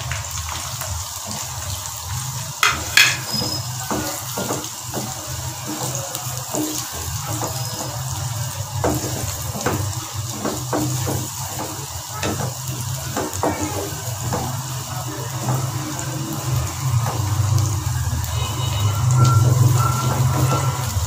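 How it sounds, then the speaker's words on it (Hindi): Onions frying in ghee in a pan, a steady hissing sizzle with soft crackles and pops that runs continuously and grows slightly louder toward the end. "प्याज को घी में इतना भूनना है कि इसका हल्का सा कलर आ जाए"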